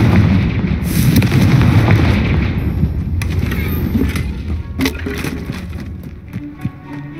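A Confringo fire-blast spell in Hogwarts Legacy lands as a loud, booming burst of rumbling explosive noise. It is dense and heavy at first, then gradually thins into scattered crackles and debris pops.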